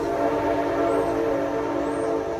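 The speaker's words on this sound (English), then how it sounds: "there goes the train." A train passes nearby, a steady loud rumble of rail noise filling the whole stretch, with a faint whistle-like tone rising briefly twice over the top.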